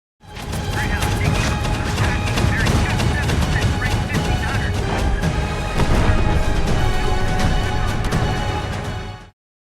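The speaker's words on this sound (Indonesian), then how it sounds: "Banyak suara yang ditembakkan dan banyak kapal dagang yang meledak." Dense naval battle din, with gunfire and explosions as merchant ships in an Allied Atlantic convoy are hit during a night U-boat attack. Loud and continuous for about ten seconds, with booms and crashes layered over a heavy low rumble.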